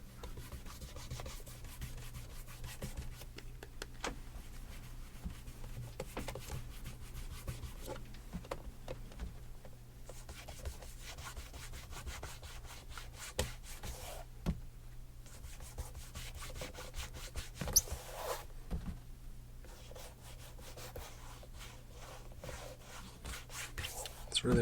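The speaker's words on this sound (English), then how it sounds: "let's put a little wax on the shoe. Start off with a little neutral. Pate Deluxe." Soft, steady rubbing of Pate Deluxe neutral wax onto a grey shoe with a cloth, a continuous close whispery friction with faint scuffs and brief pauses throughout.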